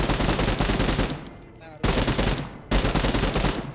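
Loud automatic gunfire rattles from behind in a battle royale video game, in two long bursts split by a short lull, then a third burst begins.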